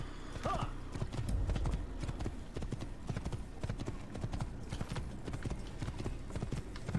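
Horse hooves gallop in the Assassin's Creed video game, a fast, steady clip-clop rhythm running throughout with a brief whinny early on, under occasional background voice.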